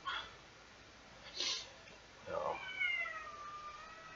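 Indoor house cat, a good-sized young female, giving a few short faint meows spaced apart, the last drawn out and wavering, against a quiet background.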